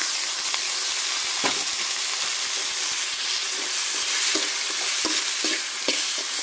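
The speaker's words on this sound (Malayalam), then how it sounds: "ഉള്ളിയൊക്കെ വഴറ്റാനായിട്ട് ഇട്ടിട്ടുണ്ട്" Onions and aloe vera gel sauté in a hot pan, a loud, continuous close-up sizzle and hiss with occasional stirring scrapes and taps throughout, no voices.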